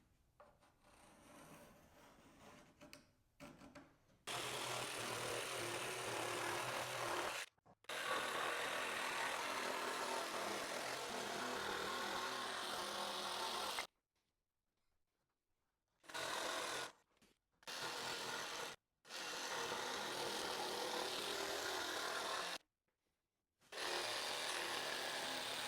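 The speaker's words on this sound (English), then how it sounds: "Let's see how it does on a 2x4." Skil 12v compact jigsaw with a heavy duty blade cutting through a 2x4, a steady rasping buzz in several long bursts broken by short silent pauses.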